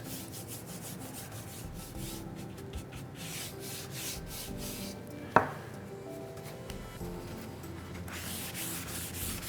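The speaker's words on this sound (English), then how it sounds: "you can just start to kind of brush it on and then buff it around" Black wax being brushed and buffed onto a wooden driftwood sign: a steady, close dry rubbing and scrubbing texture throughout, with one sharp knock partway through.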